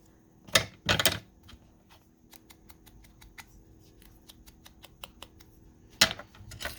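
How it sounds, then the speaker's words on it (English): Scissors snip twice near the start of a trim along uneven 12x12 craft paper, then another sharp cut later, with faint ticking and rustling of the paper between cuts. "Let me just trim here because I cut this kind of uneven."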